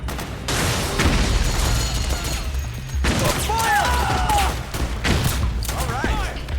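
Suppressing automatic gunfire in the PS3 video game Metal Gear Solid 4: Guns of the Patriots, a loud continuous fusillade of rapid shots with booms, mixed under shouted battle commands and game music.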